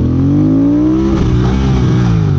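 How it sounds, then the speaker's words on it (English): A 2022 motorcycle engine revs hard as the throttle is opened, its deep, loud, close growl climbing steadily in pitch and then holding high. "You give it gas, that thing just came way the hell up."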